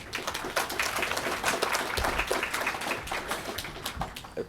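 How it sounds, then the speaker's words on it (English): A conference audience claps for a skills-development speaker at a local economic development session, a dense, steady round of many hands filling the room, close and fairly loud, with no voices over it before it thins at the end. "Can I have a round of applause for Chris Gale?"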